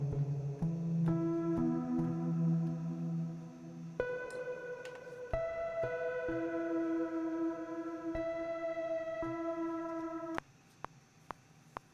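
Synth plucks drenched in heavy reverb during a music production session, with sustained harmonic notes ringing out and blurring together, stepping through a few chord changes before a long washy tail.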